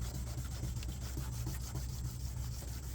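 Faint, steady rubbing as two-sided sandpaper is worked wet across a car headlight lens, a low continuous scrubbing with no one talking.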